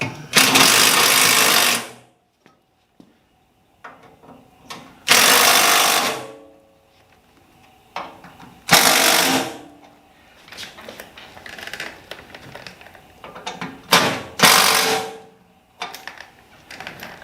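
Power screwdriver or drill driving screws during assembly of a Millermatic 255 welder, several loud whirring bursts of a second or two separated by quieter handling clatter and faint shop noise.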